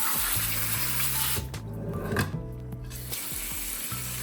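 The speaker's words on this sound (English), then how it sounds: "what I'm doing is just running cold water on them, and spraying them, and moving them around" Steady cold tap water splashing and running over frozen shrimp in a sink, with occasional rubbing and handling noises, close and fairly loud throughout.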